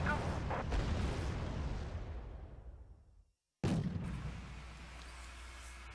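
Heavy booming artillery and gunfire from tanks and vehicles in the Wargame Red Dragon strategy game, a long rumbling blast that fades out, then another loud impact with sustained rumble.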